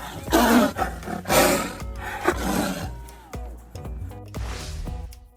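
A tiger roars several times in quick succession, loud and close, each deep, rough bellow breaking into shorter grunting trails.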